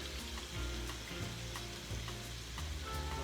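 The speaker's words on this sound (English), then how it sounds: "Okay, then I'm going to add the tomatoes or tomatoes" Tomatoes drop into a hot frying pan for a chickpea dish with sausage and sizzle steadily, a continuous loud fry with faint stirring scrapes and no talk.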